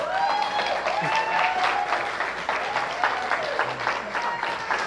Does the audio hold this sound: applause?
yes